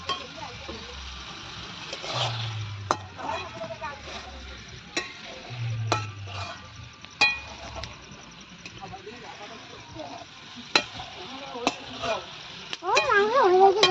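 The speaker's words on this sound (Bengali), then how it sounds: "আস্তে আস্তে নাড়ো মাংসটা" Chicken meat being stirred in a frying pan, soft sizzling with repeated scraping stirs and occasional clinks, while people talk in the background.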